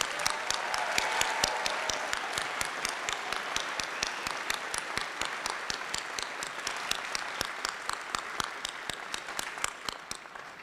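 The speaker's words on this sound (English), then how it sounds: "Let's give these graduates a round of applause" Applause for graduates at a spring graduate school commencement ceremony, a sustained round of clapping from a large audience with distinct nearby claps ticking steadily over a broad wash, moderately distant.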